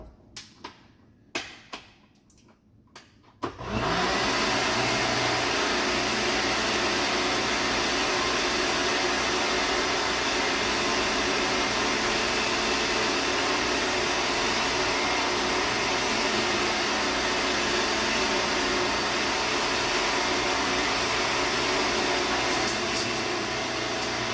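Blender pureeing broccoli soup, a steady loud whirring drone that starts abruptly after a few seconds of quieter kitchen handling noises and runs on continuously to the end.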